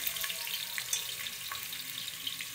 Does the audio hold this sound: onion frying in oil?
yes